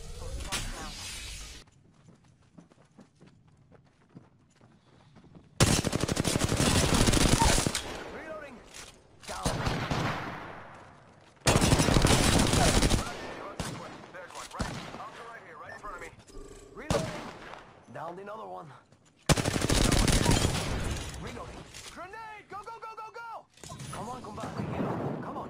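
Bursts of gunfire in the video game Apex Legends: several loud, sustained volleys separated by quieter gaps, with some scattered sharper shots in between.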